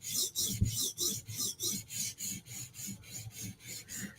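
A blade is stroked against a sharpening stone to raise a burr on the backside, a rhythmic series of about fourteen even rasping passes, close and steady with no talking.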